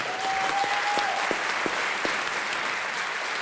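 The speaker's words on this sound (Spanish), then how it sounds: "Aplausos." Applause from a podcast audience, a steady wash of clapping held at an even level throughout, with a faint tone early on and a few sharper knocks.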